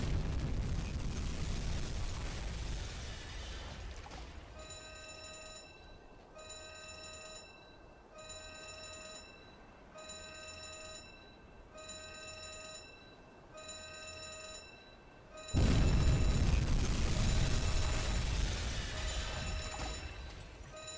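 Torpedoes striking a smuggler ship in the Uboat submarine game: a heavy rumbling explosion fades, then a beeping alarm-like tone pulses steadily for about ten seconds before a second loud, roaring blast hits and lingers.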